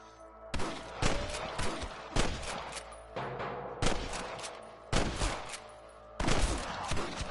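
Bursts of gunfire in the video game Red Dead Redemption, several rapid volleys of shots at irregular intervals, loud and close over a constant background hum.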